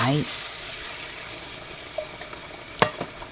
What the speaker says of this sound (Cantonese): 加入煮好嘅椰奶，